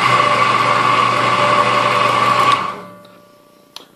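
A Harbor Freight belt sander converted into a knife grinder runs with a steady, fairly quiet motor whine and belt hum, then is switched off and spins down, followed by a faint click.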